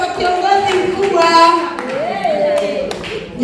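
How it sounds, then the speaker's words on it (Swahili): Applause at a youth gathering as a young leader receives a gift: a crowd claps steadily while a voice speaks loudly over the clapping. "Makofi kwake kwa kiongozi mkubwa"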